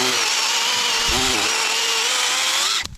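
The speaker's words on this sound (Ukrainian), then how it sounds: "як я її пиляю, вона аж звенить" A WORKRAFT saw cuts through thin hardwood firewood with a loud, steady, high-pitched whine and ringing buzz, close up and alone, cutting off abruptly near the end.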